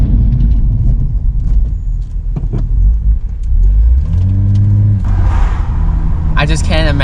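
A BMW M235i with a six-speed manual blips its engine through a fourth-to-first downshift, a close, loud rev rising and falling under excited talking.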